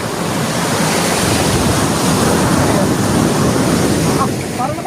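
Water waves in Camarines Sur, a continuous loud wash of surf and rushing water with wind buffeting the microphone and no pause across the whole stretch.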